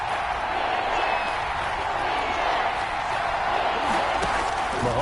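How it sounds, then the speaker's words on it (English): Steady stadium crowd roar in an American football video game, a constant loud wash of cheering with no breaks, lightly under a commentator's voice. "Crowd getting in it a bit already."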